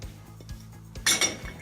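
Plates and dishes clink and knock against the rack of a Siemens Varioflex dishwasher, a few scattered light taps followed by a louder, sharper ceramic clatter near the end, up close.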